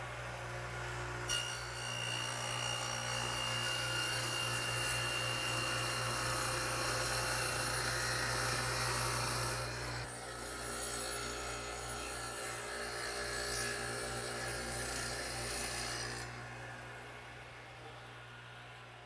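A radial arm saw cuts a quarter-inch-deep, three-quarter-inch-wide groove in a 2x4, a loud continuous whine with a steady motor hum, the pitch shifting midway before the blade spins down near the end.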